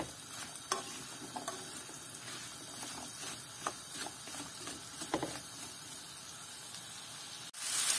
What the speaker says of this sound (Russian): Сейчас положим яблоки. И будем их жарить на сливочном масле.